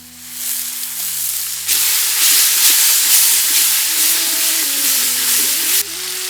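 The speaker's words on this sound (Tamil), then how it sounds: "நம்ம நசுக்கி வச்சிருந்த சின்ன வெங்காயத்தையும் இப்போ சேர்த்துக்கலாம்." Crushed shallots and tomatoes frying in oil for gongura chutney, giving a loud, close sizzling hiss that surges stronger and holds steady before easing near the end.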